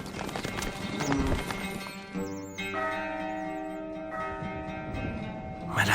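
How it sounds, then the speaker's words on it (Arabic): A horse gallops in the Stronghold Crusader video game, its rhythmic clip-clop hoofbeats steady under a ringing bell and game music, with a short whinny. "الفرس تعدو."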